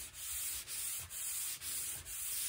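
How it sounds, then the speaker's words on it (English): Light, steady hand sanding on wood, soft rhythmic rubbing strokes repeating about every half second, close and quiet. "let's start with our sanding. And again, very light. We want to follow with the grain."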